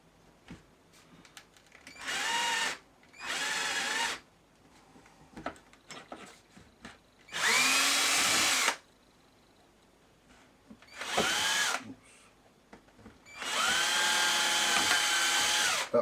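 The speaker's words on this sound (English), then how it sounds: "let's drill these two out first" Power drill boring out parts of a gramophone in five separate bursts, each about a second or two of loud whining spin, with quiet pauses and small handling clicks between them.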